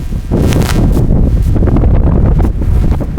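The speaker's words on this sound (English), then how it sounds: "It's definitely some stronger gusts." Strong wind gusts buffet the microphone in a loud, continuous roar, with a brief dip before rushing back in, during a lightweight men's rowing race.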